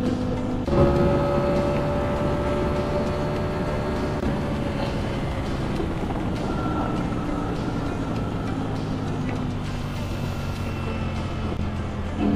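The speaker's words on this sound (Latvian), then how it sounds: "Tagad izmēģinām dzinēju bremzi ar minimālo bremzēšanu." A motorcycle engine under light engine braking, a steady droning rumble with harmonic tones that slowly fall in pitch as the bike decelerates, continuous and fairly loud, with no talking.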